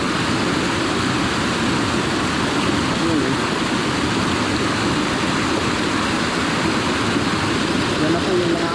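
A strong, swollen river at a crossing, nearly overflowing its banks, rushes in a loud, steady, unbroken roar close by, with a voice partly buried beneath it.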